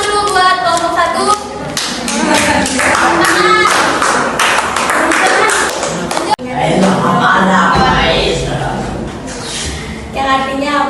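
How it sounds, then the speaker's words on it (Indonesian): A classroom of students claps for a student group with loud, uneven applause, punctuated by thumps, shouts and lively chatter. "Tepuk tangan dulu buat kelompok 1."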